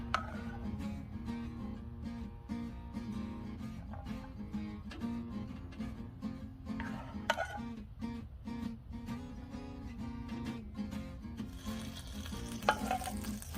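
Pinto beans sizzle on a Blackstone griddle for New Mexican–style huevos rancheros, with a steady frying hiss under repeated scraping and stirring strokes of a spatula, fairly close with occasional sharper clicks.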